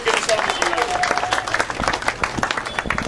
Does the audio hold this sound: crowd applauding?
yes